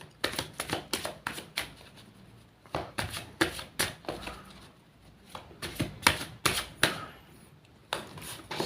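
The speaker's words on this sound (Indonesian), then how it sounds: "Langsung saja saya shuffle kartunya." Tarot cards shuffled by hand, a run of crisp riffling bursts and sharp slaps repeating irregularly, close and fairly quiet with no talk.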